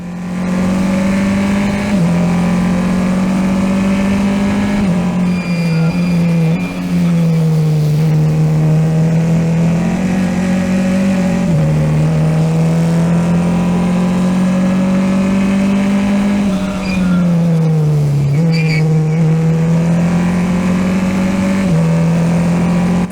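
Formula 4 race car racing at Dijon-Prenois, recorded from the car itself: a loud, continuous engine drone that rises with acceleration, dips on downshifts and braking, and climbs again through the gears.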